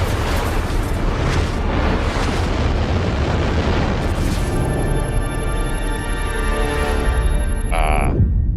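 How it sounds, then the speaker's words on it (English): Massive explosions from a TV science-fiction series roar in a loud, continuous rumble that fills the whole stretch, with a thin high whine rising near the end. "The massive explosions shattered the moon."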